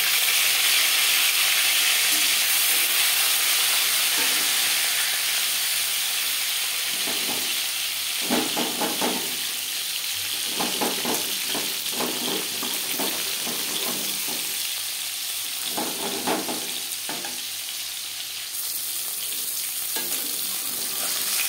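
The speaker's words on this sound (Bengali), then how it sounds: "মাছ একটা সাইড ভাজা হয়ে গেলে অপর সাইডটা উল্টে দেবো" Fish frying in hot oil in a pan, a loud, continuous hiss and sizzle with bursts of sharper spattering and crackle as the pieces are moved about.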